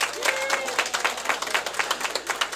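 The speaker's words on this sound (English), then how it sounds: "a big round of applause for her" Audience applause at a conference on sustainability in Indian Country, a dense patter of many hands clapping steadily and fairly close, with no talk over it.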